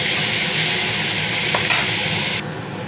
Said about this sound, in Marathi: मी आता त्यात टाकतोय कांदा, कांद्याला पण थोडा भाजून घेऊया